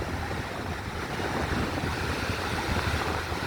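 Big ocean waves break on a beach in a steady, broad wash of surf, with wind buffeting the microphone, continuous and fairly loud with no voices.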